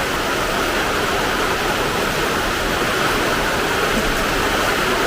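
Wind blowing outdoors by a pond during a power cut, a steady, loud broadband rush that holds evenly throughout with no distinct gusts or pauses.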